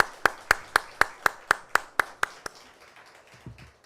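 A church congregation claps for the choir after a hymn, about ten sharp, evenly spaced claps at a steady beat that stop abruptly, leaving a quiet room with a faint low thump at the end.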